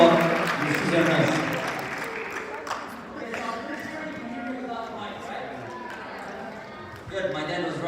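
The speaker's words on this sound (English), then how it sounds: "Everybody give a round of applause." A crowd at a student culture night at Wayne State claps, strongest in the first two seconds, then thins into scattered clapping under people talking, with a small swell near the end.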